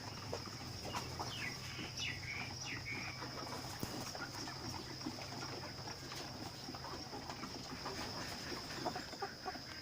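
Hy-Line Brown laying hens cluck and murmur continuously in a busy coop, with a steady high hum and some water noise in the background; no talking.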